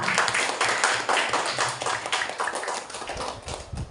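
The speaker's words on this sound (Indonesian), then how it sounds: "Beri tepuk tangan buat kelompok 4" Classroom applause for a student group, lively uneven clapping from many hands close by, rising and falling in bursts for a few seconds with no talking.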